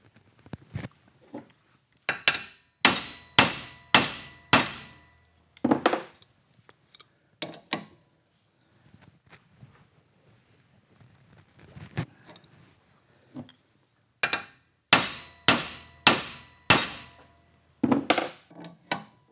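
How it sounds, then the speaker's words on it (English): Sharp metallic blows from a 2-pound hammer ring out in quick bursts of four or five strikes, separated by pauses with faint rustling, fairly close. "2-pound hammer."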